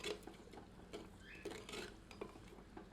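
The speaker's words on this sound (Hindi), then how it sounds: "मिलाकर भूनते हैं और प्याज को गोल्डन होने देते हैं" Onions frying with ginger garlic paste in a clay handi are stirred, giving faint, scattered scrapes and light utensil clinks at a low, even level.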